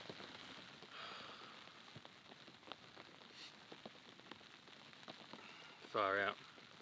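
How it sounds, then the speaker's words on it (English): Rain patters steadily on a tent in the Australian bush during a storm, a soft dense hiss of drops with occasional louder taps, and a brief burst of a voice near the end. "I hope it's just a small, quick kind of storm"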